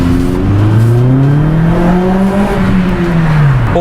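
A Vauxhall Maloo drives past loud and close, its engine note sweeping up and then down with rising harmonics, a steady roar that fills the whole pass with no talking over it.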